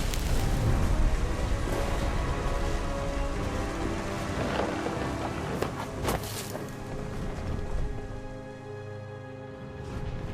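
A thunderstorm in the video game What Remains of Edith Finch: dense steady rain with a heavy low thunder rumble rolling underneath, loud and close, easing slightly toward the end.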